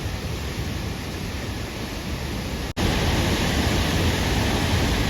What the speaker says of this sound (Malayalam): ഇത് മഞ്ഞല്ല കേട്ടോ വെള്ളം തകർത്തിട്ടേ